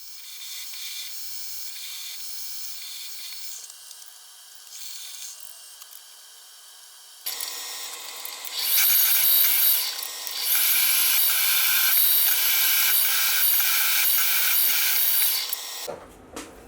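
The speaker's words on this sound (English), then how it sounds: "So I'll drill the holes all the way through until they reach the dowel holes." Steady high-pitched grinding and whirring of a drill cutting holes through a metal lathe tool post, quieter at first, then louder and harsher before stopping abruptly.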